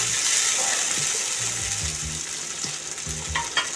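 Spice paste mixed with water hits hot oil in a pan and sizzles loudly and steadily, with stirring scrapes and bubbling close by.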